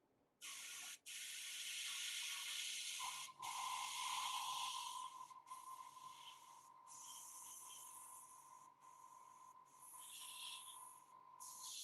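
An airbrush sprays paint onto a sculpted figure in short and long hissing bursts with brief pauses between them, close and fairly quiet, and no one speaks.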